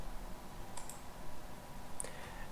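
Two or three faint, sharp computer mouse clicks, spaced apart against a quiet background, as a menu is selected in an ATLOS merchant panel.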